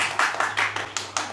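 A sparse, slow golf clap from a live wrestling audience at a Pentagon Fight Night 2016 show, six or seven distinct claps spaced evenly about every fifth of a second, fairly close, over a low steady hum.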